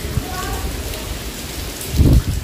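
Heavy rain pouring down in a village, a loud continuous broadband roar with a stronger gust or rumble near the end; faint voices may be mixed in.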